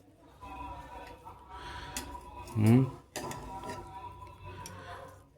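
A spoon scrapes and clatters in a pot of Dindigul-style mutton biryani made with seeraga samba rice, a few metallic knocks with one louder clang midway, over a soft background hiss.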